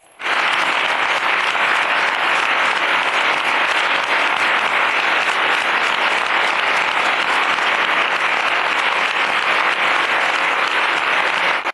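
Sustained applause from a large crowd at a bullfight, a dense, loud, unbroken wash of clapping that starts abruptly and holds steady throughout.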